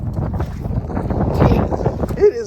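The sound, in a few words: wind blowing while riding a bicycle outdoors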